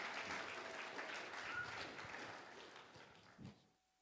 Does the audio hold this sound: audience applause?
yes